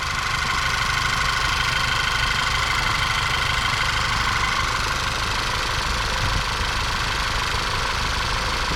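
A Volkswagen MK6 GTI engine freshly fitted with new spark plugs, running steadily at idle with a constant close hum and light mechanical ticking, no voices.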